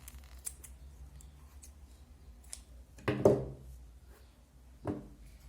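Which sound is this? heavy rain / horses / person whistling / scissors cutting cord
scissors cutting cord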